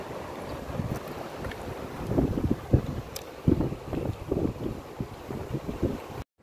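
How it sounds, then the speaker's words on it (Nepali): Gusty wind buffets the microphone on a sandy riverbank, uneven low rumbling bursts rising and falling for several seconds with no talk. "वृद्धि गइरहेछ आज चाहिँ। हावा चलेर"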